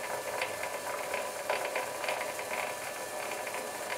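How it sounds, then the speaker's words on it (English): Myford lathe running at very low speed with its back gear engaged, giving a steady mechanical whir with light, irregular gear clatter and ticking throughout, fairly close and without talk. "The Myford's back gear is engaged. This allows very low speeds,"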